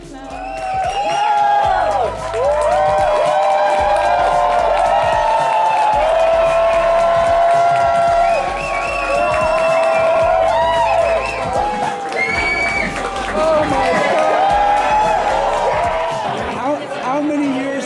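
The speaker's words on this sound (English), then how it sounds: "Let's just take a second and cheer for the newlyweds coming in" Wedding guests cheer and whoop loudly as the newlyweds enter, a dense crowd roar with shouts and chatter throughout, mixed with speech and thumping music.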